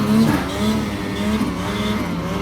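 A Ski-Doo Summit Expert 850 Turbo snowmobile engine revs hard during wheelies, a loud, close, wavering drone that rises and falls.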